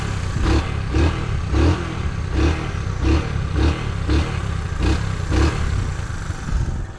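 A small 1975 ST90 motorcycle engine sputters and chugs in a rapid, uneven rhythm of pops, close by and fairly loud, running roughly throughout.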